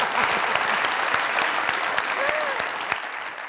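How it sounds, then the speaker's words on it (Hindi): Steady audience applause on a comedy show, a dense, even clatter of many hands that holds at full strength throughout without pause. "तालियां"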